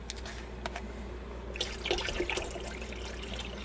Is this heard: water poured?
yes